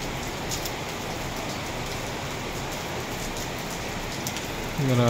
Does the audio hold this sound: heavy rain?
yes